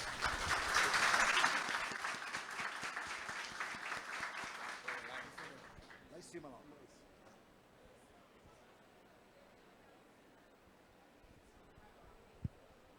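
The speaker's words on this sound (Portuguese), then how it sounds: "Uma salva de palmas, senhoras e senhores." An audience applauds at a lecture event, loud at first and then thinning out over about six seconds into a quiet room.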